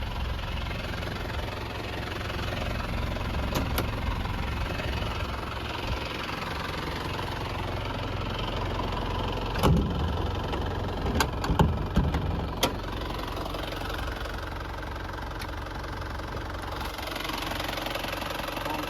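A 1997 Isuzu TFR pickup's diesel engine idles steadily nearby with an even rumbling knock, punctuated by a few faint clicks, no voices.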